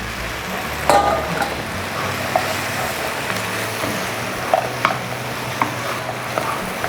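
Chicken pieces go into a pan for chicken chukka and get stirred, with a steady close sizzle under scattered clinks and scraping taps of the spoon against the pan.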